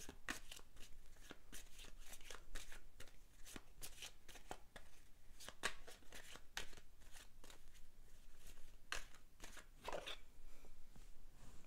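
Tarot cards are shuffled close up in quiet, continuous riffling flicks, with soft slaps and slides as cards are handled and drawn.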